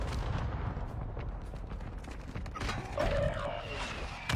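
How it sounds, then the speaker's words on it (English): Mortar strike explosions in Fortnite, a dense rumble of blasts and impacts rolling continuously at moderate level, with game effects layered over the barrage. "I saw his mortar strike"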